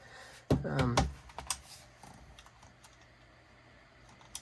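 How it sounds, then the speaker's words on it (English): A micro SD card pushed into the slot of a small PCMCIA breakout board: a few quick plastic clicks and scrapes close by, then faint handling noises, with a voice briefly audible. "Let's stick a micro SD card in there."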